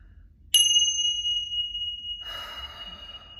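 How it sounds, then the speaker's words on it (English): A single chime is struck once and rings out clear and bright, sustaining steadily. A softer, breathy sound follows near the end, with no talking. "we're gonna do a little bit of these chimes and then reset the energy"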